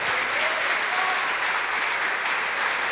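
Steady, dense applause from a church congregation during a sermon, filling the space evenly for the whole stretch with no voices standing out.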